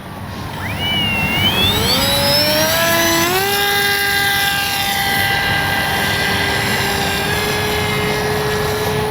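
A Dynam Hawksky V2 RC power glider flies overhead, its electric motor whine rising and sliding in pitch as it passes, then settling into a steady drone against constant wind noise, with no talk.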